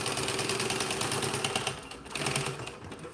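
A sewing machine stitches steadily through quilting work for a custom order, its rapid mechanical chatter continuous and close, easing briefly near the middle before running on.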